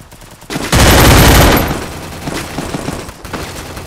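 An M1887 shotgun fires in the game Free Fire, one loud close blast followed by a rumbling decay and scattered smaller shots.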